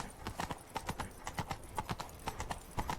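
Horse hooves clip-clopping at a steady trotting rhythm in The Witcher 3 video game, a continuous run of sharp, evenly spaced hoofbeats at moderate volume with no voices over them.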